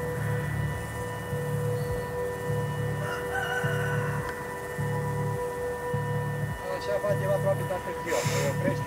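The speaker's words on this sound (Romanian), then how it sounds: "Se aud și alarmele și cocoșii." A rooster crows in the distance in a Danube village in Romania over a steady droning hum, with a repeating low pulsing tone of alarms and some background noise throughout.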